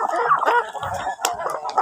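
Large backyard chickens cluck close by in quick, overlapping bursts of short, nasal calls, busy and fairly loud.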